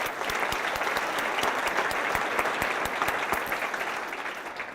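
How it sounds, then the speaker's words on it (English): Gala audience at a women's center fundraiser breaking into applause, dense steady clapping from a sizable crowd, fairly close and sustained, fading slightly toward the end. "so please give yourselves a round of applause"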